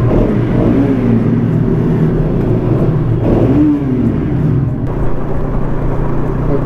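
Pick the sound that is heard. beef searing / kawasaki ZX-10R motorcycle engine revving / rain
kawasaki ZX-10R motorcycle engine revving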